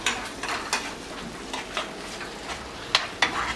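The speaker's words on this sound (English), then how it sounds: "We have the tomato there cooking along with the onions." Tomato and onions fry in a pan with a soft continuous sizzle, punctuated by repeated light utensil scrapes and taps against the pan, close by and with no talk.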